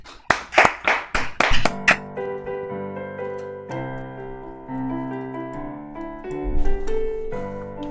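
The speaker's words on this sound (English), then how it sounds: "We're gonna clap." An audience at the Catbird Café virtual open mic claps for a performer in a short burst of sharp, fairly close hand claps lasting about two seconds. Music then begins.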